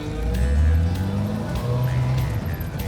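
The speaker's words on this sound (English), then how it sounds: "You mean we can drive your car around your field?" MGB GT sports car driven across a grass field, a loud, close engine rumble with shifting low tones throughout, a short burst of revving and changing pitch, no speech.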